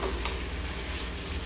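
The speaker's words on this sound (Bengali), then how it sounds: "পোস্ত সর্ষে কাঁচা লঙ্কা দিয়ে কিছুক্ষণ ভেজে নিব ডাঁটাগুলি।" Moringa drumsticks fry in oil with poppy seed, mustard and green chilli, giving a continuous close sizzle with a light stir near the start and no talking.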